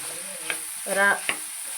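Jackfruit curry being stirred in a pan, with a low sizzle underneath, a couple of soft scraping knocks of the spoon and a brief louder stirring swish in between, close and without talk.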